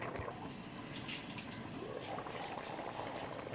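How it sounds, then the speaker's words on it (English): Egusi soup with okra and dried fish simmers slowly over low heat in a pot, a faint, steady bubbling with soft popping and no talking. "See, my egusi is nicely cooking."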